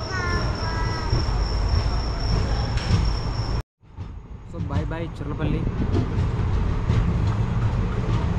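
The 12745 Manuguru SF Express pulling out of platform 6 at Charlapalli station, with a loud, steady rolling rumble and a high whine, broken by a brief cutout, while someone talks over it.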